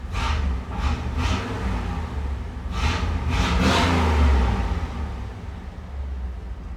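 Pontiac Firebird on its first drive after decades off the road, running rough and short on torque, the engine droning and rising through several accelerations heard from inside the car, with no talking.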